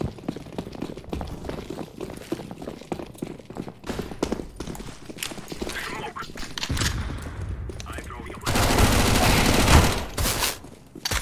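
Rapid gunfire bursts and footsteps from a first-person shooter match in a train yard map, dense crackling shots mixed with running and clattering effects, growing into a loud sustained burst near the end, with players' voices over it.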